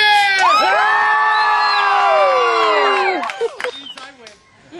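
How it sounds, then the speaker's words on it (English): A crowd of lords, ladies and children at a Rogue Blades medieval show shouts and cheers loudly for the damsel, a sustained roar of whoops that fades into scattered voices and claps. "Give a cheer!"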